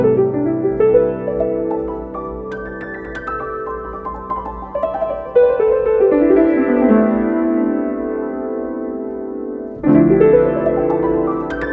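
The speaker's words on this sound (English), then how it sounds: "So now the piano sample sounds like this." Piano sample pitched down 300 cents for a beat, darker and lower chords with rolling runs that restart near the end, loud and continuous with no voices.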